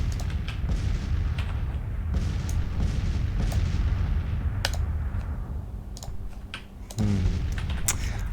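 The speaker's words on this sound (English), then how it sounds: "Alright, so it's an artillery duel in the morning." Artillery fire rolls through a Civil War battle in the strategy video game Grand Tactician: The Civil War, a series of distant booms over a constant low rumble, with clicking between the blasts.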